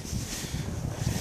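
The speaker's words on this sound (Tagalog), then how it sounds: "Medyo malakas din ang hangin." Strong wind buffets the microphone in a low, continuous rumble for a brief moment.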